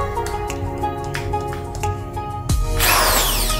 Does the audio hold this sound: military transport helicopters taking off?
no